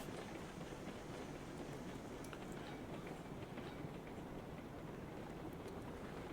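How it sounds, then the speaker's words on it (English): A freight train in the Railroads Online video game rolls onto a coal mine siding, giving a steady, continuous rumble of rolling stock with faint rail clatter and no talk over it. "Gonna go onto the leftmost siding to unload."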